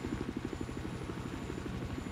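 Steady, rapid rotor thumping from a Battlefield 4 helicopter, close and continuous with an even pulsing rhythm and no talk.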